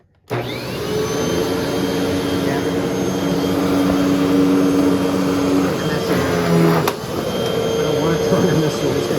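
A vacuum cleaner, just plugged in after a bent prong was fixed, starts abruptly and runs with a loud, steady whining roar, dipping briefly once near the end.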